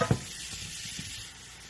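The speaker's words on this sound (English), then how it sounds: "so I took out about half of it so that way I could saute the mushrooms a little bit better" Mushrooms sautéing in a pan for chicken in a mushroom wine sauce, a soft, steady sizzle with a brief stirring scrape at the start, fading slightly toward the end.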